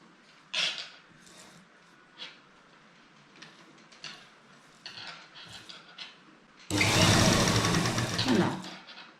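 Sewing machine stitching a loop for a kurta, running in a loud continuous whir near the end after scattered small handling sounds and brief speech.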